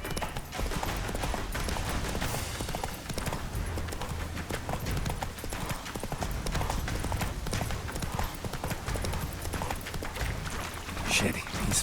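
Roach, a horse in The Witcher 3, gallops in steady rapid hoofbeats, a continuous clip-clop rhythm running throughout at close range, mixed with game sound and voices.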